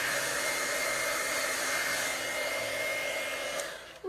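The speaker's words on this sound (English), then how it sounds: "The heat tool blows heat." A heat tool blows hot air across a Bible journaling page to dry it, a steady close whooshing drone that holds almost unbroken and cuts off near the end.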